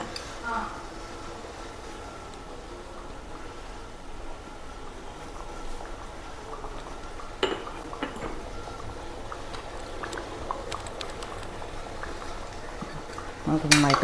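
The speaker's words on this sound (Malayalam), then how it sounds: "നമുക്ക് നന്നായിട്ട് തിളക്കട്ടെ." Yam curry in a homestyle Kerala kitchen boiling steadily in a pot, a continuous low bubbling with occasional clinks of utensils against the pan; a voice talks over it at times.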